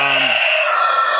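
Hens and roosters in an egg-laying coop, with a short clucking call early on and a dense, steady chorus of high-pitched poultry chatter running throughout.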